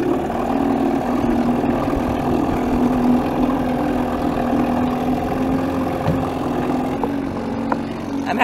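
A small homemade 7.5-foot boat's outboard motor runs steadily at a moderate, even drone throughout, its hum constant and close with no talk over it; the motor is hitting the keel.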